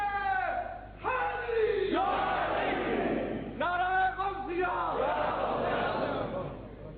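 A large crowd at a Sunni religious rally shouts a slogan in unison, loud rhythmic call-and-response bursts with a leader's voice and massed voices answering, echoing through a hall.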